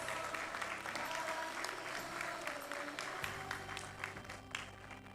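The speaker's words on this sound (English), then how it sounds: "Let's all give a huge round of applause for all our 61 PhD graduates." A graduation ceremony crowd applauds 61 PhD graduates, a sustained, even wash of clapping with a low hum underneath.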